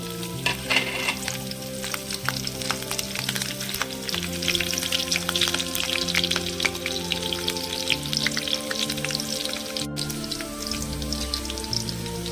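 Chopped green chillies and cumin seeds fry in hot oil in a pan. A loud, dense, continuous sizzle with crackling pops runs close and steady throughout, with no talking.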